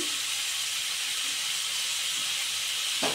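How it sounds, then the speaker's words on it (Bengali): Chopped tomatoes hit hot oil in a frying pan, producing a loud, steady hiss of sizzling and steam that continues evenly throughout, with a small clatter near the end. "এই সময় আমি টমেটো কুচিগুলো দিয়ে দেবো"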